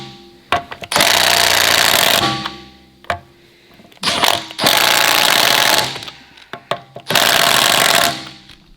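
A Snap-on impact wrench hammers at 700 foot-pounds of breakaway torque on stubborn wheel lug nuts of a winter-worn car, firing in three loud, sustained rattling bursts, each about a second long, separated by short pauses and clicks.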